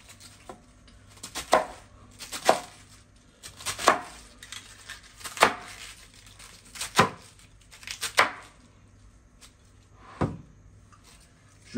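A knife chops cabbage coarsely on a cutting board, about nine distinct thuds spaced at a slow, slightly uneven pace, each crisp and close with quiet gaps between.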